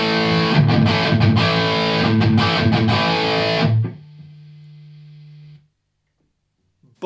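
Electric guitar played through the Blues Driver model on a Boss GX100 multi-effects unit, giving a few seconds of overdriven strummed chords that cut off into a ringing sustained note and a low amp hum.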